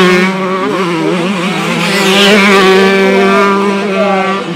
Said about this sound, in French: Qu'est-ce que c'est bon le 125 2 temps.